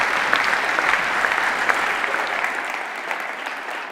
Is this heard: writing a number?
no